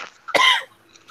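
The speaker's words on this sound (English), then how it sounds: "I'm coughing to death over here." A single sharp, loud cough bursts out close to the microphone, preceded by a brief throat-clearing catch, then quiet.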